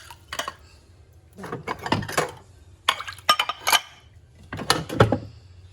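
Cooking pots and dishes being washed outdoors, with bursts of metallic clanks and clinks from handled cookware, scattered in irregular clusters separated by short quiet gaps, close by.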